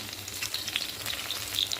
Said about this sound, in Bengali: হালকা করে একটু পনিরটা ভেজে নেবো